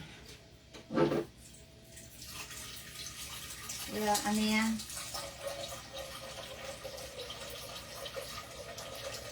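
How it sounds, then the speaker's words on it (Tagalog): Tap water runs into a cooking pot in a home kitchen while someone talks. The steady rushing stream carries on under her speech, with a few louder splashes as the pot fills. "Naglalagay lang ako ng tubig dito sa ano, kaldero"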